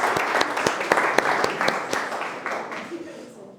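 An audience at a startup pitch session claps in a quick burst of distinct hand claps that thin out and fade within a few seconds, with a voice audible under it.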